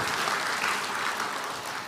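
Audience applause for honored forest rangers and civil investigators at a ministry award ceremony, a dense steady burst of many hands clapping that fades slightly at the end.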